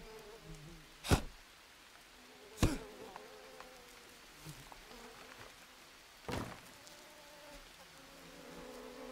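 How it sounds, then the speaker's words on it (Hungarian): Flies buzz around dung in the jungle survival game Green Hell, a faint continuous insect drone broken by a few sharp loud thumps and clicks. "Hallom, hogy döngnek közötte legyek."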